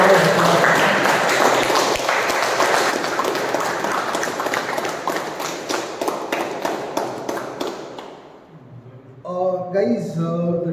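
Dense clapping from a meeting audience fills most of the stretch, a steady patter of many hands that fades out near the end, followed by a brief spoken voice.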